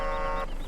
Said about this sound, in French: Ah, il a un bon klaxon celui-ci.